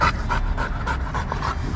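A large dog pants quickly and close by, short breathy bursts repeating in an even rhythm with no other sounds.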